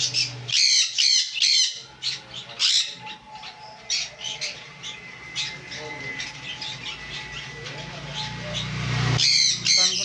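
Conures at a parrot sale give loud, harsh squawks in rapid bursts, with several birds calling over one another and a brief lull in the middle before the shrill calls return.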